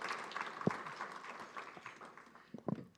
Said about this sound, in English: Let's give another round of applause to Cantor Jack Chomsky,